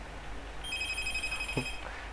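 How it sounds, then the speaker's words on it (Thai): A telephone rings in a room during a horror game session in Damned, a single electronic ringing tone, fairly faint, while a short voice sound breaks in near the end. "เสียงโทรศัพท์ดังมากนี่"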